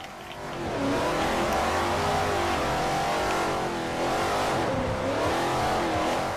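Race car engine in Forza Motosport 4 (Plymouth, Cuba) revving hard, a loud continuous drone rising and falling in pitch through gear changes and corners, close and steady with no speech.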